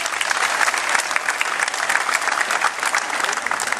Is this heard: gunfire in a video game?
no